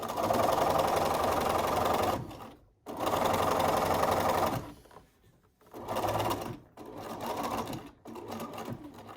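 Sewing machine stitching fabric seams for a hospital-style face mask, running loud and close in steady whirring bursts separated by short pauses as the fabric is repositioned.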